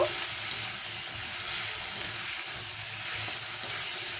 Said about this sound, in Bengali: মশলাটাকে আমি আস্তে লো ফ্লেমে আমি ভালো করে কষে নেব